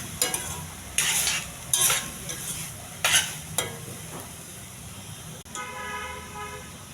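Carrots, beans and garlic are stirred in a frying pan, a spoon scraping in several loud bursts over a soft sizzle, with a short tonal sound like a distant horn near the end.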